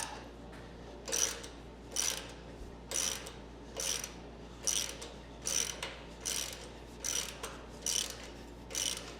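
A ratchet tightens a bolt on a C4 front suspension being fitted to a 1957 Chevy truck restomod, with about eleven evenly spaced, steady strokes heard up close, and no talking.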